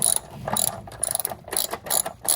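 A ratchet clicks in quick bursts while removing the 10mm and Torx bolts on an Audi windshield washer pump, sharp close pawl rattles separated by brief pauses, with no talking.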